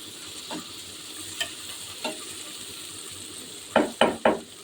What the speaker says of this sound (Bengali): যদি আমি একসঙ্গেই ভাজি, পেঁয়াজও ভাজা হয়ে যায়, মাছও